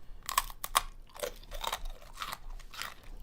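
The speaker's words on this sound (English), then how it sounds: "This is a crunchy pretzel." Crisp crunches from biting into a crunchy pretzel, followed by several sharp chewing crackles in an uneven rhythm, close and alone with no talk.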